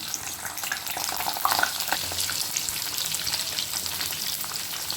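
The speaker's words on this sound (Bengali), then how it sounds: "তেল এর মধ্যে পটলটা ভেজে নেব" Pointed gourd (potol) fries in hot oil, sizzling and crackling steadily, with occasional stirring clinks over the continuous hiss and no one talking.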